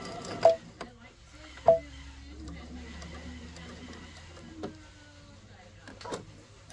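A sewing machine stitches around a fabric zipper pouch with a soft low motor whir, punctuated by a few sharp clicks, quiet and close.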